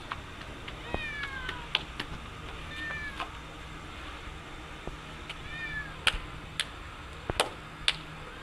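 A cat meows several times in a village home at mealtime: short, fairly faint rising calls scattered through the stretch, mixed with light clicks and handling sounds, and no talking.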